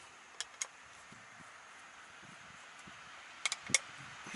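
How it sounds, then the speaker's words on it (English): Steady broadband road noise from passing traffic on a nearby road fills the background, with a few sharp clicks and taps up close near the start and end during a LevelMate PRO install. "Sorry about the road noise, the road is right there."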